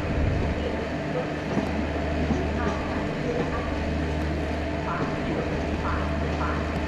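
Locomotive running slowly in Trainz Simulator on the Amravati AC Express route, a steady low rumble with faint rail clatter, under someone speaking throughout.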